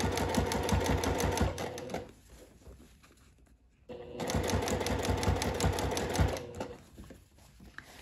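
A sewing machine runs close by, stitching the seam joining a ruffle to a sundress lining. Two steady bursts of rapid, mechanical needle chatter are split by a quiet pause.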